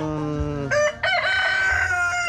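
A gamecock, the brother of a champion golden gray fighting rooster, crows loudly and close by in one long, strained call with a brief break, the setting farmyard-like.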